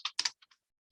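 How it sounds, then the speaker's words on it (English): A handful of quick computer keyboard keystrokes, five short clicks with two closer together, crisp and close, then silence. "I'm typing it literally now."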